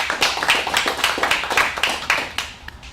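A small crowd at a fire department truck donation claps for the fire chief, with loud, close, rhythmic hand claps that continue steadily for a few seconds and then fade.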